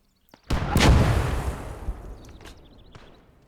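A mortar round fires in the World War II game Gates of Hell on the Eastern Front, one heavy boom that rolls and fades into a long rumbling decay, followed by a few faint distant thuds.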